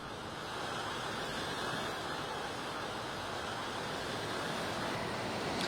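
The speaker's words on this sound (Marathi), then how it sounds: "उंचच उंच लाटा या ठिकाणी खरं आदळताना आपल्याला पाहायला मिळत आहेत" High sea waves crash steadily on Dadar Chowpatty beach in Mumbai during a red-alert monsoon storm, a continuous broad roar of surf with wind buffeting the microphone, with no voices heard.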